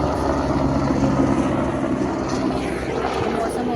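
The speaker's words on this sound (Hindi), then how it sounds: "हेलीकॉप्टर।" A helicopter passes over a rainy mountain area in Kishtwar, its steady low rotor and engine drone filling the air at constant loudness with no talk.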